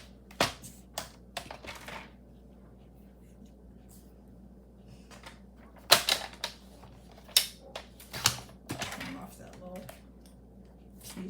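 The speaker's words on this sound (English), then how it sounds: "So I'll cut my paper." Paper being cut for a penguin tri-fold card, scattered sharp clicks and snips at irregular intervals, close and fairly quiet, with quiet talking in between.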